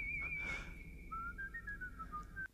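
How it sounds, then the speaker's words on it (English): A person whistles a clear, high melodic tune, sliding between held notes and quick phrases, close and alone in a quiet space. "Wow, someone's a talented whistler."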